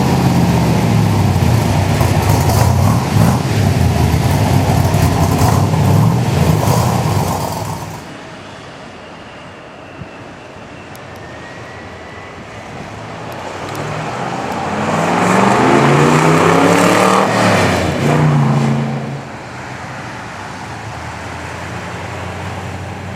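A restored 1965 Chevrolet Corvette Sting Ray with a 327 V8, big camshaft, solid lifters and high compression, roars loudly as it drives off, fades into the distance, then swells again as it passes back by.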